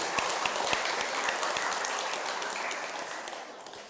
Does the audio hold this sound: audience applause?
yes